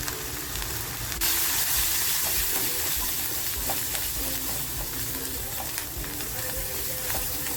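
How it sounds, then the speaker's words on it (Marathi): Homemade masala for a silverbar fish curry frying in a pan, a steady close sizzle and crackle running throughout with occasional faint scraping, no talking. "मसाला आहे ना, छान फ्राय करून घ्यायचा आहे आपल्याला"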